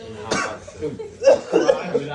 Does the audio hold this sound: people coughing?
yes